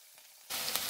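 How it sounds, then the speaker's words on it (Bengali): Onions and garlic dropped into hot oil in a pan for a pumpkin and dried shrimp stir fry, a sudden loud sizzle bursting in halfway through after near silence, then a steady close crackling hiss. "চুলায় একটি পাত্রে পরিমাণ মতো তেল গরম করে নিয়েছি। এবার পেঁয়াজ আর রসুনগুলো দিয়ে দিচ্ছি।"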